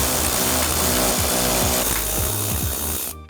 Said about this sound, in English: we're going to use a size 10 socket to remove the bolt that we find under the valance